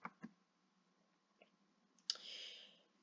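A computer mouse clicks on an OK button, giving a few faint, sharp clicks spaced apart in a quiet room, followed by a short soft chime-like tone near the end.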